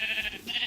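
A Minecraft sheep bleats once, a short, close, wavering baa from the video game, clear and alone.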